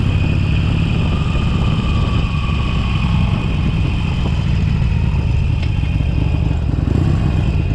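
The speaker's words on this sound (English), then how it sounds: "This has a stock exhaust, so it's pretty quiet." A 2019 Harley-Davidson 883 Sportster with its stock exhaust idles nearby, giving a steady, fairly subdued low engine rumble with light mechanical clatter that holds even throughout.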